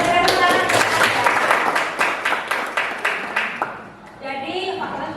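Classmates clap in a classroom, a burst of scattered hand claps that fades out, followed by a voice starting to speak.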